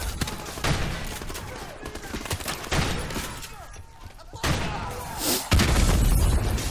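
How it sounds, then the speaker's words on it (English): Gunfire and a heavy explosion sound in the video game Call of Duty Modern Warfare Remastered: rapid bursts of shots and booms that end in a loud, deep blast near the close. "what was that for an explosion, dude?"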